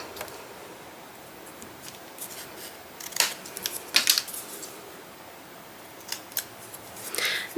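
Scissors snip through a strip of scrap chipboard for a handmade envelope mini album, giving several sharp, close cuts spaced irregularly over a quiet background, with a denser burst of snipping near the end.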